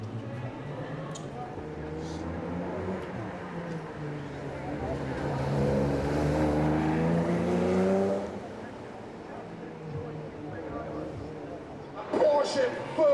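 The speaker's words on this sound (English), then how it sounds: "Porsche full cry" A Porsche rally car runs at full cry on the Circuit of Ireland rally stage at Newtownards. Its engine swells to a loud, rising and falling howl that passes by, and a commentator talks throughout.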